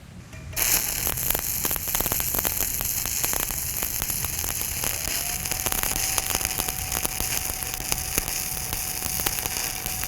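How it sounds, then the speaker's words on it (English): Steady crackling and hissing from stick welding run too fast, a continuous dense sizzle with a faint hum that holds loud and even after a sudden start, with no talking. "the sixth thing that you don't want to do when you stick weld is weld too fast"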